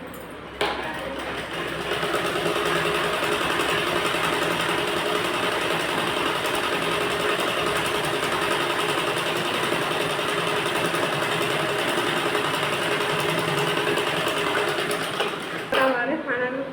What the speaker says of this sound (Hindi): इधर 2-3 सिलाई लगाकर इसको एकदम से कंप्लीट कर लेंगे।